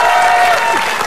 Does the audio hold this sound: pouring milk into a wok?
no